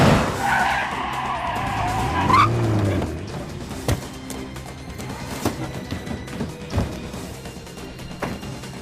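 A cargo truck arrives in Splinter Cell Pandora Tomorrow with a loud, drawn-out tire skid and wavering engine whine, then settles into a low idling rumble broken by scattered clunks and knocks.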